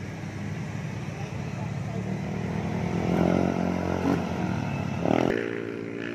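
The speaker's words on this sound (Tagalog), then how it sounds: "Honda Goldwing." A Honda Goldwing motorcycle engine idles and rumbles up close, swelling briefly as the revs rise before settling, with people talking over it.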